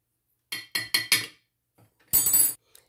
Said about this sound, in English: Just use a fork and crush your sardine.